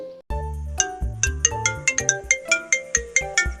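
A phone plays a melodic ringtone for an incoming call, a clear sequence of bright chiming notes in a repeating tune, loud and close with no talking over it.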